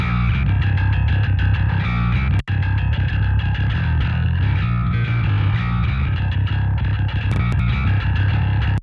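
Bass guitar track from a mix played without the Successor compressor, mild 1073-style gain coloring, a dense steady sustained low line with a brief dropout near the start, loud and with no talk.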